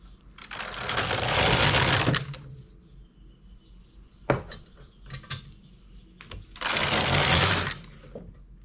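Domestic knitting machine with a ribber knitting two strands of industrial wool, two loud sliding carriage passes separated by quieter clicks and knocks, close up with no talking.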